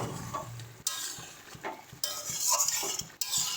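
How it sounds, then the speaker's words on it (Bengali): A spoon scrapes and clinks against a pot as broccoli curry with garam masala is stirred, the metallic strokes rising over a light sizzle in short bursts. "গরম মশলাটা দিয়ে এটাকে ভালো করে মিশিয়ে নেব"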